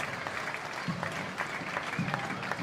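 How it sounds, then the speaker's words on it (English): Spectators lining the street clap steadily at the Anzac Day march in Brisbane, a dense sustained patter of applause from a crowd at moderate distance. "to see those people smiling and clapping"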